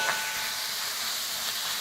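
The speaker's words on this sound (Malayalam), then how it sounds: "നമ്മുടെ ഉള്ളി നന്നായിട്ട് മൂത്ത് വഴണ്ട് വരുന്നുണ്ട്" Onions sautéing in a pan for a spicy Kerala kootu curry, giving a steady, close hiss of frying with no talking over it.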